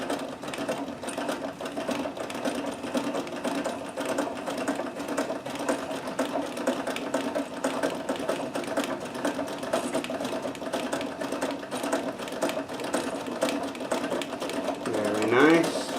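A Necchi BU NOVA sewing machine doing double needle stitching, running steadily with a fast even mechanical whir and rhythmic needle clatter for the whole stretch, then slowing near the end.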